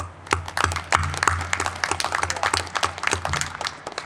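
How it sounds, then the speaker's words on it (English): An audience at an outdoor Constitution Day barbecue in Jackson, Mississippi claps for a few seconds, a dense, steady patter of many hands close by with no one speaking. "Give yourself an applause"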